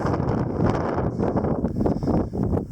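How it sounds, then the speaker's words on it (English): Strong wind buffeting an exposed mountain traverse in the Humboldt Range, a steady loud roar with gusty surges throughout and no voices. "Not out of the wind yet."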